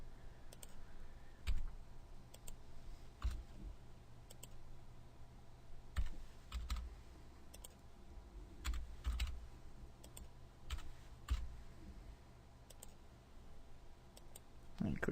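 Steady typing on a computer keyboard while entering test information into a web portal, with scattered key clicks and louder taps at irregular intervals over quiet room tone.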